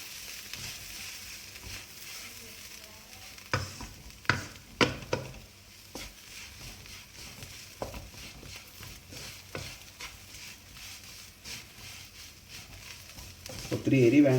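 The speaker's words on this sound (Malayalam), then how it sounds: "ഇതെല്ലാം നമ്മൾ ജസ്റ്റ് ഒന്ന് മിക്സ് ചെയ്യാണ്." Beef masala being stirred and mixed in a frying pan, with a low sizzle underneath and a few sharper scraping knocks of the spoon in the middle, close and moderately loud.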